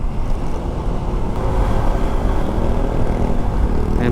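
A Honda ADV 160 scooter with a passenger accelerates uphill while overtaking, its engine a steady, loud drone mixed with wind rush that swells slightly as it climbs. No one talks.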